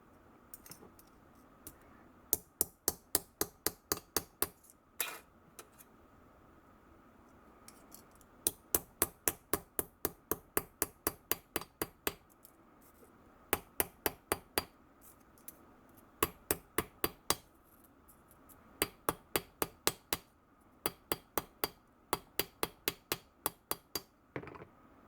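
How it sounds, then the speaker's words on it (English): Sharp metallic hammer strikes in quick bursts of a dozen or so blows, with brief pauses between runs, close and ringing. "now let's use the new hammer"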